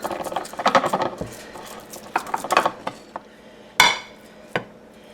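Leftover sweet potato mashed in a dish gives soft, irregular squelching presses and clinks of a utensil against the dish, close up, in scattered bursts with brief pauses.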